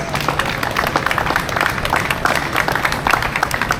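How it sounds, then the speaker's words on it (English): Steady applause from a crowd at an outdoor park grand opening festival in Charlotte, North Carolina, dense clapping sustained throughout without a break. "Let's give a round of applause for all those folks."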